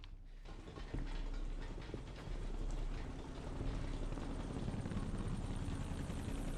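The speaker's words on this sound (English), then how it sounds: "they got a helo in the air too?" A helicopter flies overhead in a scene from The Last of Us show, its rotor thrum building to a loud, continuous chop with a hissing wash, no talk over it.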